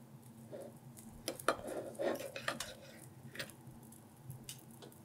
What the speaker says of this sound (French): on va couper la viande.